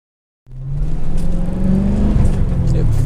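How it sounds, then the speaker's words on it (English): A Corvette with a 6-speed, X-pipe and Borla exhaust mufflers cuts in suddenly after a short silence and holds a loud, low droning rumble with a steady pitch from close by, with no words spoken. "I love the sound of these Borlas. They drone a little bit."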